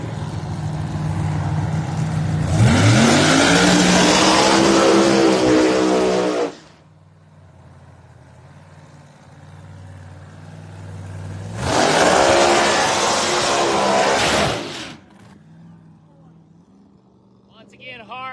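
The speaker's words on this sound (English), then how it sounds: "Ripping her back in the hard racing machine." Pro Mod drag racing car engines roaring at a dragway, with two loud, sustained full-throttle passes separated by a quieter stretch, each surging up in pitch and cutting off.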